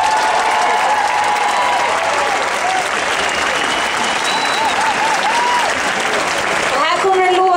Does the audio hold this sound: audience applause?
yes